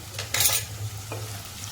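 Ginger garlic paste hits a hot pan with a quick burst of sizzle and a light scrape of a spoon, then settles to a low steady hiss.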